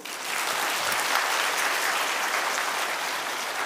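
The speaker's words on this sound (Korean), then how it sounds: "우리 주찬양 형제의 장래를 위해서 뜨거운 박수로." Church congregation at a Lenten dawn prayer service applauds warmly, a steady, even wash of many hands clapping at moderate level with no voices standing out.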